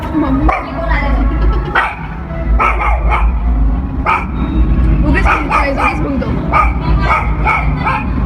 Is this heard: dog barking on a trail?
yes